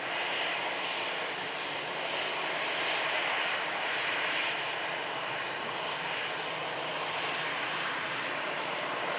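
An EasyJet airliner on its landing approach fills the air with a steady, loud jet engine roar that holds evenly throughout, with no voices.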